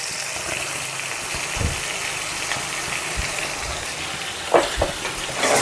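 Brinjal frying in a pan while pounded garlic and chili are stirred in, a steady close sizzle with a few scraping stirs and knocks toward the end.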